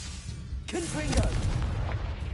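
A Confringo blasting spell from the Hogwarts Legacy video game bursts with one sharp explosive boom, followed by a short crackling tail and faint game ambience.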